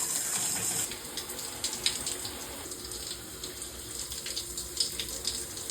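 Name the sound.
shower water running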